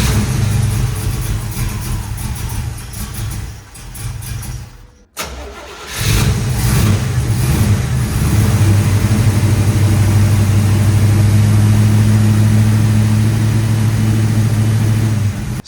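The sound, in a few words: old split bumper Camaro engine cranking and starting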